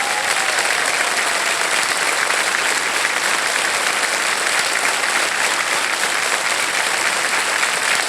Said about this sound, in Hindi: ताली बजते रहे